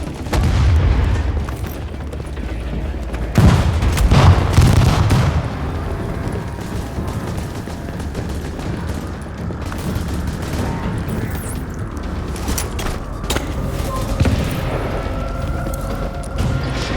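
Heavy explosions and gunfire boom through a firefight in the video game The Division, with loud blasts early and around four seconds, then continuous rumbling combat noise and scattered shots.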